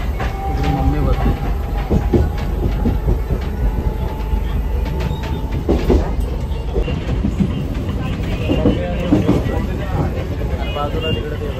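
Interior of a moving passenger train: a loud, constant low rumble with rattling carriage noise and occasional clanks, with faint voices in the background.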